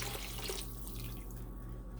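Water is poured into a pot of soaked rice for a vegetable biryani, a steady close splashing pour that runs throughout over a low background hum, with no talking.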